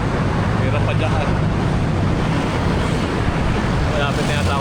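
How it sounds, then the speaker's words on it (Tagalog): Strong wind roars steadily into the microphone during a solo road bike ride, loud and continuous with traffic rumbling underneath throughout. "Lakas ang hangin."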